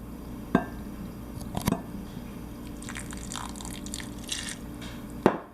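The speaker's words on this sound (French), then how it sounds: "Ensuite, vous pouvez mettre un peu d'eau, pas autant." Water is poured into a jar holding rabbit pellets for a homemade treat, a few brief splashes and drips with glassy clinks spread across a quiet background, close and without voices.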